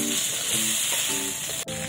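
Steady sizzling and crackling of pork chops frying in a hot pan, a continuous close hiss with a brief clunk near the end.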